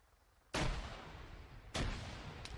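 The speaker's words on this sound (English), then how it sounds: "More grenades." Grenade explosions in the Arma 3 military shooter game, two heavy booming blasts about a second apart, each with a long rumbling decay, followed by a sharp distant crack.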